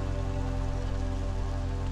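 Steady rain falling in the marshlands of the video game Against the Storm, a constant, even patter over a low droning hum with no breaks and no voices.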